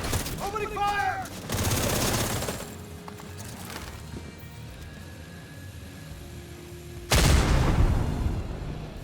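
Bursts of automatic gunfire in The Division 2 crack out in two loud volleys, with a heavier blast near the end, set against game ambience and radio-style voice chatter.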